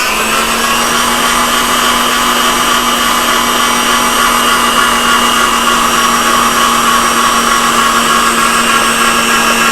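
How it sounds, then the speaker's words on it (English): An electric mixer beats eggs into pound cake batter, a loud, steady whirring drone that holds unbroken throughout with no talking. "I'm going to beat it well after each addition."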